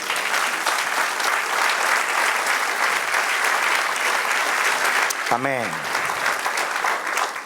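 A church congregation claps in a dense, sustained ovation that holds steady throughout, with one voice briefly speaking over the applause near the end.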